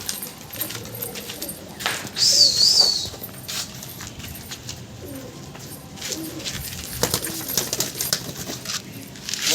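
Roller pigeons coo softly in an open outdoor space, with a brief flutter of wings and scattered bird calls over a quiet background; no one speaks.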